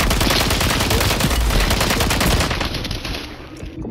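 Rapid automatic gunfire in the video game Call of Duty, dense loud bursts of shots for about two and a half seconds, then thinning to sparser, slightly quieter shots.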